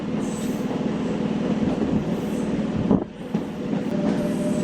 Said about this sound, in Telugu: వేటపాళ్యం నుంచి మన ట్రైన్ బయలుదేరింది